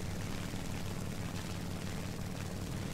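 Droning propeller airplane engine in the combat video game War Thunder, a loud, steady low rumble with a throbbing pulse, continuous throughout with no voices.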